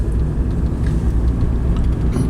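A car is driving, heard from inside the moving vehicle as a steady low road rumble and engine drone throughout, with no one speaking.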